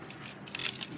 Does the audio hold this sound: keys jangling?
yes